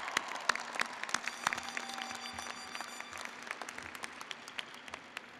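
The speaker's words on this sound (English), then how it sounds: "Another round of applause for these guys," Scattered applause from a commencement ceremony crowd, sharp individual claps rising and falling at a moderate distance, fairly quiet and thinning toward the end.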